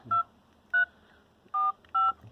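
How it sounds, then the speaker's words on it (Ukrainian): Keypad buttons on an old mobile phone are pressed four times, each press giving a short, clear electronic key tone with brief silences between presses. "Клавіші всі е, супер працюють, нажимаються, тобто телефон є робочий."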